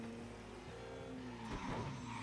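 Engine hum of a car in the video game Mafia 3, steady with a brief tire skid near the end, no talking.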